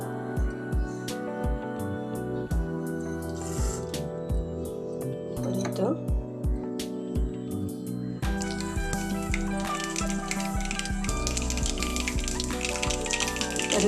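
Mustard seeds, asafoetida and curry leaves fry in plenty of sesame oil for a lemon pickle, with a busy crackle and sizzle under background music.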